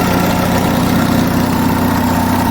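A US military Onan generator engine runs steadily at close range, a loud, even idle hum with constant vibration and no pauses, with the governor set slightly slow.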